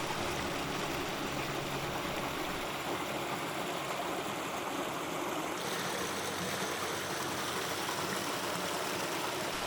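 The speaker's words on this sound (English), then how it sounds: "a perfect place to pause and take in the sound of rushing water" Continuous rushing water of a brook flows steadily over stones, a broad hiss that stays constant throughout with no voices.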